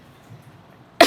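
A single short cough bursts out at the very end, after a near-silent stretch.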